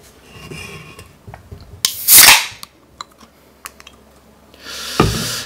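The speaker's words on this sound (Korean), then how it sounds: "이 캔 따는 소리만 들려도 참 가슴이 설레이고 뭔가 좀 기분 좋아지는 느낌이 있잖아요." A can of beer being cracked open: a sharp metallic click, then a bright fizzing hiss of escaping gas, followed by small clinks and a second burst of fizz, close up and alone.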